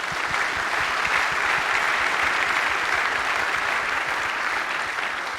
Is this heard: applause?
yes